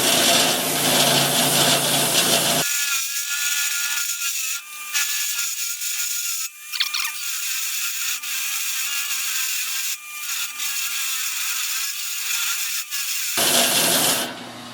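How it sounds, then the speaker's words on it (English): A Sand Flea drum sander smoothing and rounding the edges of a wooden pumpkin rocker, a loud steady whirring grind that drops to a quieter tone while the wood is pressed against the drum, then rises again. "I find the best way to do this is on my sand flea"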